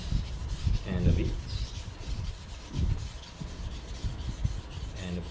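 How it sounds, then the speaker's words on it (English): Steady back-and-forth grinding of a slightly chipped knife blade drawn across a whetstone, close and fairly loud, with rhythmic rubbing strokes and brief pauses and no talking. "I will sharpen around a minute on one side before I move on to another side."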